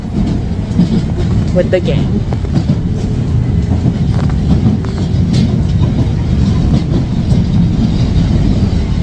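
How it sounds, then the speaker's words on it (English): Steady low rumble of a moving train heard from inside the carriage, continuous and fairly loud, with people talking over it throughout. "We're on the train"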